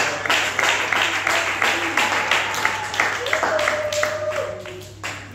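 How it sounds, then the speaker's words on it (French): A church congregation applauds together, a steady wash of many hands clapping with rhythmic surges throughout, close and fairly loud, with a faint sustained tone beneath. "Acclamons tous pour la parole."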